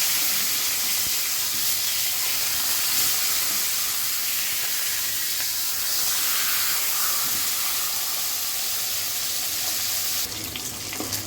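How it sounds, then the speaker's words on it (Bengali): Pangas fish fries in hot oil with a loud, continuous crackling sizzle that holds steady throughout, close and unbroken. "খুবই সাবধানে মাছটা ভাজতে হবে।"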